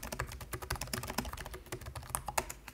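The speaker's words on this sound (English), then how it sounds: "this is how typing sounds" Quick, quiet keystrokes tap out a rapid, uneven rhythm on an Asus Zephyrus G15 laptop keyboard, close to the microphone in an otherwise silent room.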